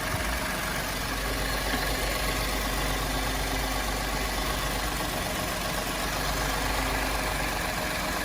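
Ford F-150 EcoBoost truck engine idling steadily right after an alternator and belt replacement, a continuous close mid-to-low hum with no talk over it.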